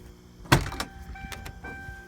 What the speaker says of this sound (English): Hear the dinger going off because the keys are in the ignition.